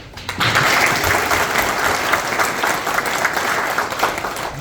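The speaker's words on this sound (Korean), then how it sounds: "서로를 위해서 박수를 크게 한번 칩시다." Applause from an audience at a New Year gathering of a people's movement group, a dense, steady burst of clapping that starts abruptly and carries on loudly for several seconds.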